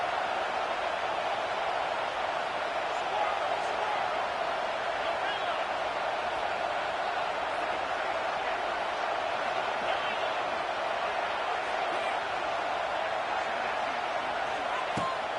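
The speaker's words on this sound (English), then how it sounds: "Man, this crowd really affecting the football game." Steady roar of a home crowd cheering in a football video game, a constant wash of noise that fills the whole stretch without clear peaks.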